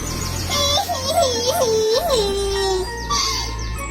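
A cartoon child wails in rising and falling sobbing cries, clearly voiced by an actor imitating crying, set close and loud in a rainy forest scene before trailing off.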